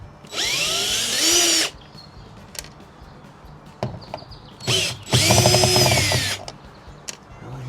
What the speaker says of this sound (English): just remove these 3 Phillips head screws on the outer edge.